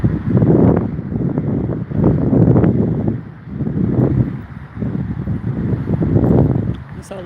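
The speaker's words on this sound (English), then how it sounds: "yeah, it is just so breezy out here." Strong outdoor breeze buffets the microphone in loud, rolling gusts that rise and fall every second or two, a close, rumbling wind noise with no clear speech.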